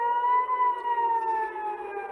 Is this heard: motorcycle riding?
no